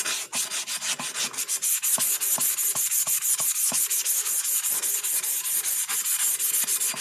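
Hand sanding of a metal tumbler cup, a rapid rhythmic rasping of back-and-forth strokes, close and loud, continuing steadily without any voice.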